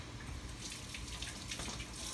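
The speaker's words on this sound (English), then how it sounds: "All right, wash my hands." Hands being washed under a running kitchen tap, a faint steady stream of water splashing into a sink with slight shifts as the hands move through it.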